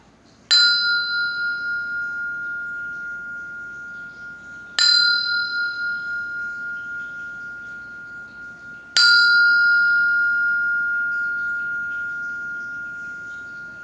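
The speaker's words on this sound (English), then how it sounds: "I'll ring the bell." A meditation bell is struck three times at even intervals about four seconds apart, each strike a clear bright ring that decays slowly, alone in a quiet room.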